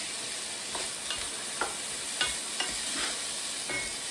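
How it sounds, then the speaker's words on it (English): Green peppers and onion hitting a hot pan, a dense steady sizzle with several crisp stirring scrapes and taps spaced through it, close and alone without speech. "Now we're going to add in our green peppers, and our onion."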